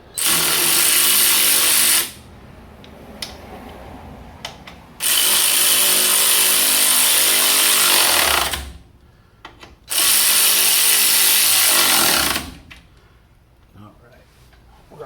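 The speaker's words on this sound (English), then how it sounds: "Going to snug these up on the bottom." A power tool snugging the bottom bolts on a Chevy S10 front shock, three loud close bursts of whirring separated by quieter gaps with small clicks and handling noise.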